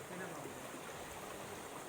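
A stream flows with a faint, steady rushing wash of water, unbroken for the whole moment, with possible faint voices in the background.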